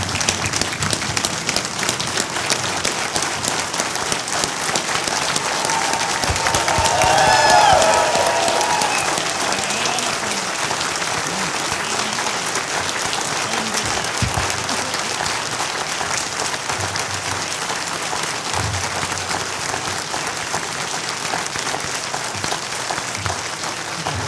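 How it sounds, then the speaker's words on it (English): Town meeting audience in Carver gives a sustained round of applause, dense steady clapping from a large crowd that swells slightly midway and continues loud and unbroken for over twenty seconds. "Could I ask you to give Mr. Mix a round of applause?"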